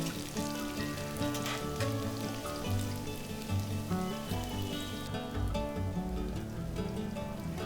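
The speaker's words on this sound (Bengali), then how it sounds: "3টে পেঁয়াজ নিয়েছি। খুব ভালো করে ভেজে নিতে হবে।" Three onions fry in a pan for a coconut chicken curry, giving a steady, fairly quiet crackling sizzle throughout, with no talk over it.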